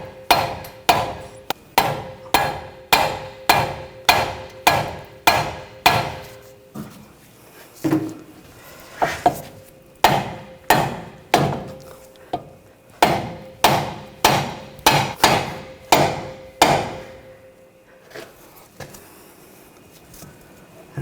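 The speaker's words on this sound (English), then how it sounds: "Might have to use a hammer it up a little bit. Just use a rubber mallet" Repeated sharp rubber mallet strikes in steady bursts, a brief pause midway, then more rhythmic blows ringing on metal while fitting a front strut and spring assembly on a 2014-2020 Nissan Rogue, close and fairly loud.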